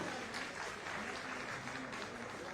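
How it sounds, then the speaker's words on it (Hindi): Steady applause from an audience at a civic conference in Jaipur fills the hall, a continuous close wash of clapping with no break. "तालियों की आवाज"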